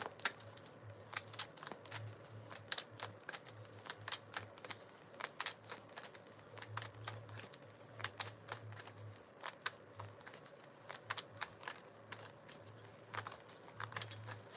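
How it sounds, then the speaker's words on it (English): Tarot cards riffled and shuffled at length, a steady stream of quick crisp snaps and flutters up close, with a low hum underneath. "It's a long shuffle."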